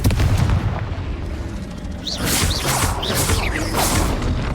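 Confringo blasting spells fired in the Hogwarts Legacy video game: a deep boom up front, then a run of sharp whooshing blasts and crackling impacts that keep the mix loud and busy throughout.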